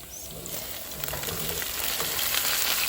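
Chicken liver frying with softened, reddened onions in a pan, a steady broadband sizzle that holds constant and grows slightly louder, with faint stirring clinks, no talking.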